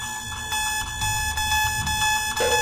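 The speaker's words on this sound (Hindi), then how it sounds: "आओ, अलार्म तो चालू हो गया।" An alarm clock rings with a steady, high electronic tone over a busy background of music and clatter, moderately loud and continuous throughout.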